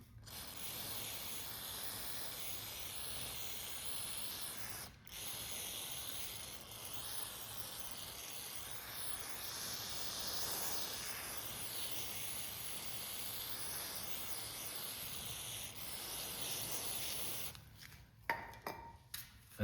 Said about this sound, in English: so we hit the MAF sensor like probably 5 or 6 times with spray